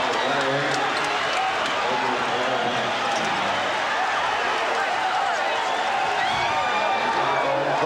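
Forum arena crowd in Los Angeles roaring and cheering steadily after the Chicago Bulls clinch the 1991 NBA championship in Game 5 against the Lakers, a dense continuous din with voices mixed throughout.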